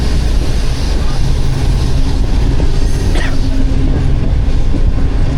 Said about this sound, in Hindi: 110 115 के सेक्शन पे ट्रेन 5 की स्पीड से पास हो रही है पीएलसी लेके